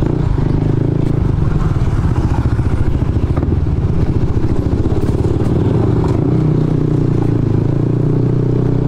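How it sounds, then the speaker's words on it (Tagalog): Yamaha NMAX scooter fitted with a JVT pipe and CVT set ridden off-road, a loud continuous engine drone over dense rattling and clattering from the rough ground, close and steady throughout. "Grabe, napa-off-road pa yung NMAX natin guys."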